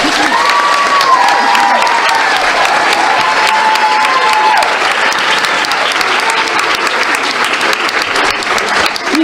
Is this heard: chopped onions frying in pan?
no